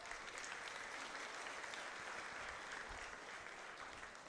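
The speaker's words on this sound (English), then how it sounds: "Let's give them one more round of applause for that." A crowd at a county 4-H fair applauds after a master showmanship contest, a soft, steady wash of distant clapping that holds evenly throughout.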